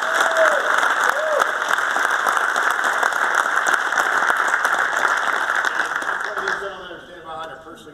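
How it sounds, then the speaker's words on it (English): An audience at a football chapter gathering gives a sustained round of applause with dense clapping that fades out near the end, while a voice can be heard over the clapping. "I think she needs definitely a round of applause for what she's done for the chapter."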